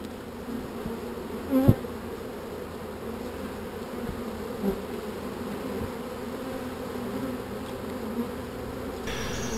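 Honey bees buzzing around an open hive during a brood inspection, a dense continuous drone of many wings close by, with a few faint knocks and no talking.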